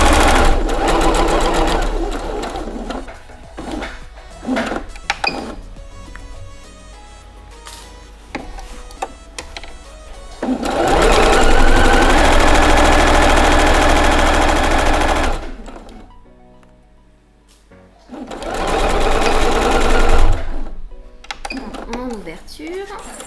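A domestic sewing machine stitches fabric for a homemade knitting needle case, running in loud, close bursts of rapid mechanical whirring separated by short pauses and handling sounds, with a voice speaking in between.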